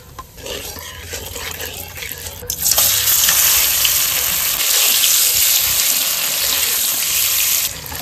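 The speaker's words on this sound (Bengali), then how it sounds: "এবার আমি পনিরগুলো ভেজে নিচ্ছি" Paneer pieces frying in hot oil in a pan, starting with quieter kitchen sounds before a loud, dense sizzle bursts up and holds steady to the end.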